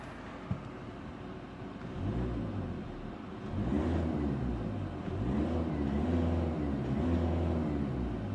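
A 2017 Volkswagen T-Roc TDI 4Motion diesel engine idles, then is revved several times toward its 2,500 RPM limiter in rising and falling swells, fairly close and steady in between.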